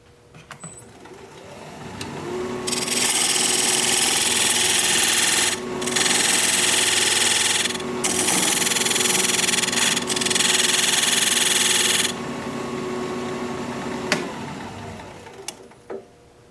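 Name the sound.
wood lathe turning, diamond point tool squaring tenon sides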